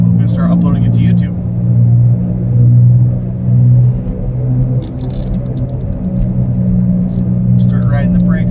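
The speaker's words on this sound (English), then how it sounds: "I'm driving home" Car driving along a road, with a steady close engine and tyre rumble and a faint rattle throughout, with brief high ticking sounds over it and no clear talk.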